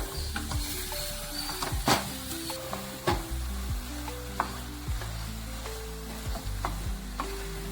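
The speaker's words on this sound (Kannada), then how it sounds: "ಇದಕ್ಕೆ ನಾನು ಬೀಟ್ ಮಾಡ್ಕೊಂಡಿರೋ ಎಗ್ಗನ್ನ ಹಾಕೋತಾ ಇದ್ದೀನಿ." Beaten egg cooks in a pan with a soft steady sizzle, punctuated by spatula scrapes and occasional taps against the pan, fairly quiet and close.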